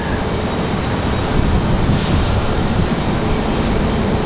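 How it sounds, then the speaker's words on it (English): American Airlines Airbus A321 with GE engines at Raleigh-Durham International Airport, a loud, steady broadband jet roar that fills the whole moment with no talking, heard from nearby under crosswind conditions. "Looks like we got another American A321, that one that was parked at the end of the runway"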